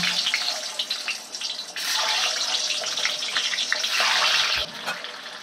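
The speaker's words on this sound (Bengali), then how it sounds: "তেলটা গরম হয়ে গেছে, এবার আমি একটা একটা করে ডিম দিয়ে দেব।" Eggs coated in salt and turmeric hit hot oil one at a time, and a steady, fairly loud frying hiss and sizzle surges louder partway through, with no talking.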